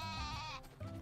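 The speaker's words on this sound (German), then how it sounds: "Die Schafe sind aber laut heute." A sheep bleating in the farming game Story of Seasons: A Wonderful Life, one drawn-out, wavering bleat followed by a shorter second call, close and clear, without speech.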